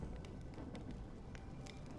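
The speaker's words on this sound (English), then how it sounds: "When will this rain ever stop?" Steady rain falling, a dense even hiss with scattered sharper drops and ticks, faint and continuous throughout.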